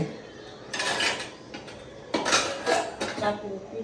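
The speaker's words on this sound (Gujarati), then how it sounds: "વાસણ ગણી રહી છે મમ્મી." Metal kitchen utensils clink and clatter in several short bursts as they are counted, handled and set down one after another, nearby and fairly loud.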